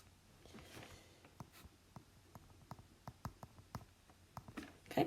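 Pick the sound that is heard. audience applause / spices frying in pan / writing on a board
writing on a board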